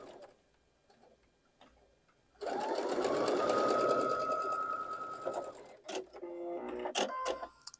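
A sewing machine chain pieces fabric for a Dutchman Puzzle quilt block, running in one steady, close whirring stitch burst of about three seconds, then stopping amid small clicks and fabric handling.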